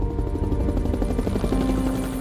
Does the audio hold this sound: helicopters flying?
yes